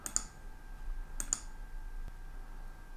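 A computer mouse clicks on a button in a payroll program, giving two quick sharp double clicks about a second apart against a quiet room background.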